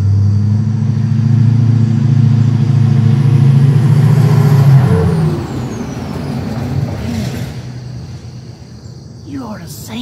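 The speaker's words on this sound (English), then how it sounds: "you ought to have seen the piece of machinery on the back of that pickup truck" A pickup truck carrying a log chopper rumbles past close by, a loud low engine drone that fades after a few seconds into softer road noise.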